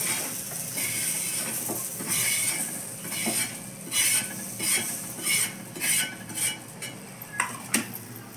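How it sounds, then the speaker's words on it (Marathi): Roasted masala scraped from a pan onto a plate with a metal utensil: repeated sharp metallic scrapes and clinks, close and fairly loud, speeding into quick bursts toward the end, with no talking. "आता आपण मसाला काढून घेऊया ताटामध्ये।"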